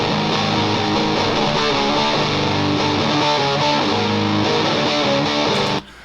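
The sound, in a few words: distorted electric guitar tone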